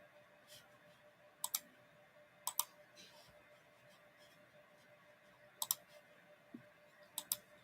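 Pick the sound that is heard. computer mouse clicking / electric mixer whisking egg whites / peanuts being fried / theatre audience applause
computer mouse clicking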